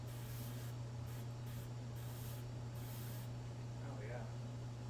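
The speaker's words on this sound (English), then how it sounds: "A little test squirt on my scrap here." A paint spray gun gives a short test squirt onto scrap material during a probe droid model build, a breathy hiss over a constant low electrical hum in a workshop.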